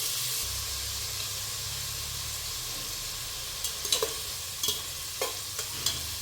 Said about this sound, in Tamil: ரெண்டு பச்சை மிளகாய் கட் பண்ணி வச்சுட்டு எல்லாம் போட்டு வதக்கணும் கொஞ்சம் உப்பு போட்டு வதக்கணும்